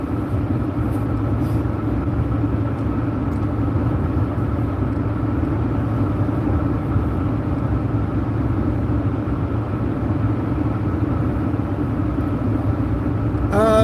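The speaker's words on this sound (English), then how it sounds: "I'm gonna wait till this chicken truck gets by me" A chicken truck on the road makes a continuous low, loud rumble, steady and close throughout, with no clear rise or fade as it goes by.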